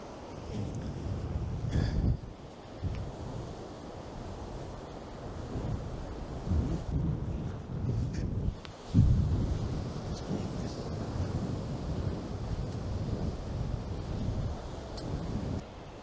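Strong wind buffets the microphone on a flooding seashore while surf rumbles steadily underneath, with gusty swells and brief dips in loudness throughout.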